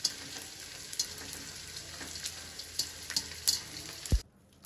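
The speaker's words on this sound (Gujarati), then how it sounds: "આવી રીતે થોડો થોડો ગુંદ તળવાનો, ફૂલી જાય" Edible gum (gond) frying in ghee for adadiya pak, a close steady sizzle with small crackling pops and occasional stirring clinks, ending in a brief low knock before going quiet.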